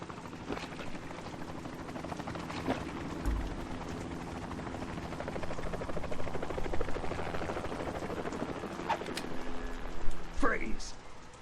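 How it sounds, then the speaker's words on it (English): Helicopter rotor drone in the video game Metal Gear Solid 2, a steady mechanical thrum running beneath game speech and music, with a brief rising whine near the end. "You will be on the helicopter out of here now."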